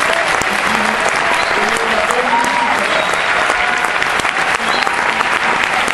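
An indoor audience applauds young gospel singers with dense, sustained clapping for several seconds, and voices murmur and call out faintly underneath.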